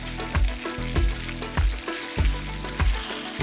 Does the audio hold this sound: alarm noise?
no